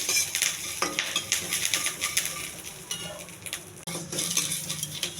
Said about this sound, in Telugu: కొంచెం దోరగా ఎగర్చాలండి.